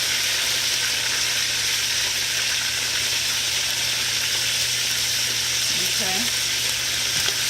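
Skinned chicken leg quarters sear in a hot pan, giving a loud, steady, close sizzle and crackle throughout, with one brief spoken word near the end.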